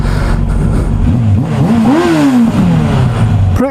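A Suzuki RF900 motorcycle engine fitted with a six-speed gearbox revs hard in first gear, its note climbing sharply, peaking, then falling back to a steady idle, loud and close, with a brief clatter at the very end.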